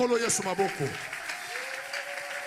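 A church congregation applauding at a sermon, a broad sustained clapping wash that runs under a preacher's voice before tapering slightly.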